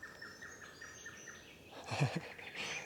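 Faint birds-of-paradise calls in a quiet outdoor setting, a repeated high chirping pattern followed by a brief burst of louder, busier calls.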